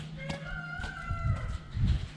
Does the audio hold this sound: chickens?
yes